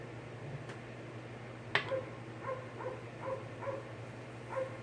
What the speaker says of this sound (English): he starts to bark every time I make a video